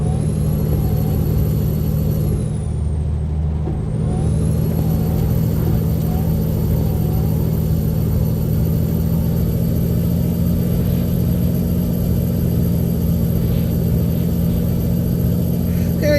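Coronado truck engine in American Truck Simulator, a steady loud diesel drone and rumble held at an even pitch for the whole stretch, with a brief high whine dipping early on and no speech.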